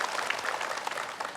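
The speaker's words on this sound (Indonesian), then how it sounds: "Tepuk tangan." Studio audience at an Indonesian religious TV talk show clapping together, a dense, steady wash of many hands that holds evenly at moderate volume with no talking over it.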